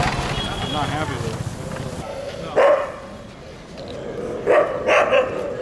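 Street dogs bark at night in Jodhpur, India, in a few separate bursts near the middle and end, rising over a busy night-street background with someone talking early on.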